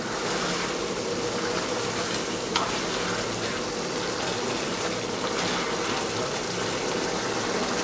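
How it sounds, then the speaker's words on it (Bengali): Spices sautéing in oil over medium heat in a pan, a continuous, even sizzle that fills the whole stretch at steady loudness, with one brief clink partway through. "মিডিয়াম হিটে মশলাগুলোকে 3-4 মিনিট আমরা কষিয়ে নেব।"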